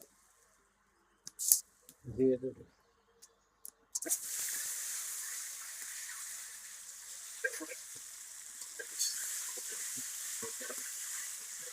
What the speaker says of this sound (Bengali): ডিম ভাজানো লাল লাল করে।